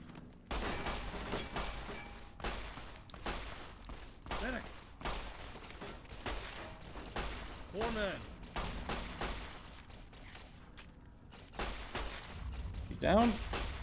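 Bursts of gunfire crack in rapid volleys during a firefight in the video game Fallout: New California, with sharp repeated shots over a few seconds, and a player talking between them.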